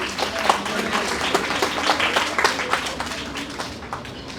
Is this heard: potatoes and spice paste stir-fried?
no